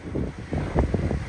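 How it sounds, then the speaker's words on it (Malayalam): Strong winter wind gusts roar and buffet the microphone during snowfall at a tanker truck stop in Hamilton, Ontario, a steady low rumble with several heavier swells. "അതിശക്തമായ കാറ്റും മഞ്ഞ് പെയ്ത്തും തുടങ്ങിക്കഴിഞ്ഞു"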